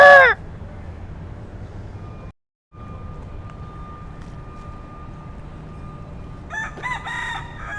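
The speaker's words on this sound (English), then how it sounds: "Come on, rooster. Let's crow together." A rooster crows loudly and close at the very start, one harmonic call that ends in under half a second, followed by quiet outdoor city background in downtown Miami and a brief dropout. Faint bird chirps come near the end.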